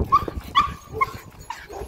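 Dogs on a walk give a few short barks and yips mixed with whimpering, close and fairly loud, over light background noise.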